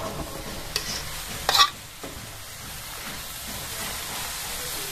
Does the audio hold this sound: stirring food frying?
yes